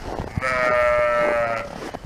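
A sheep bleats once near an Arabian horse in training, a loud, close, drawn-out wavering cry lasting over a second, framed by brief thumps and rustles before and after.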